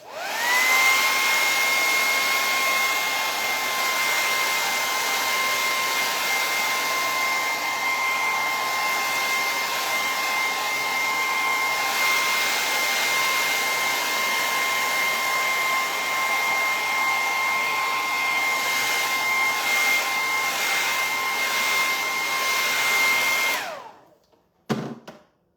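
A hair dryer blows steadily and loudly at close range to dry paint on a stencil project, holding an even whine for about 24 seconds before it switches off with a short clatter at the end.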